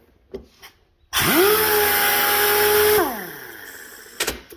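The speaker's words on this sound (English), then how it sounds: "Let's try the sander here." A pneumatic air sander starts up abruptly, runs at a loud, steady whine for about two seconds with the compressor pressure up, then spins down as the air cuts off, with faint workshop clatter before and after.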